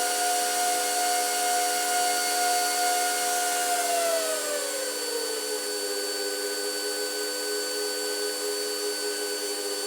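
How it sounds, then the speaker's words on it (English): Power supply fan of an ASIC cryptocurrency miner whirring loudly near the camera, a steady hairdryer-like rush with sustained whining tones that drop in pitch midway, then continues evenly. "the loudest sound that you can hear near the camera is the power supply"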